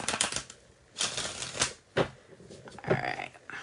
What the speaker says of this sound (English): All right, let's shuffle for Sagittarius.